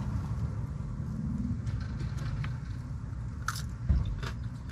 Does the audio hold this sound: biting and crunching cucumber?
yes